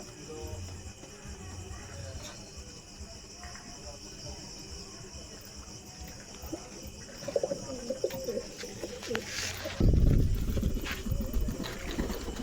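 Pigeon cooing at close range outdoors, soft repeated coos over faint background noise, with a louder burst of rustling near the end.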